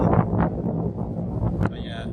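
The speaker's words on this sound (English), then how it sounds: "Like I said, pretty windy." Wind buffets the microphone at a Florida beach in a steady low rumble with gusts, loud and close throughout.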